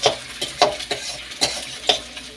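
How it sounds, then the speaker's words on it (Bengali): Egg, onion and tomato stirred in a frying pan for chow mein, with repeated sharp scrapes and clinks of a spatula over a steady sizzle, close and fairly loud. "নাড়ালাম"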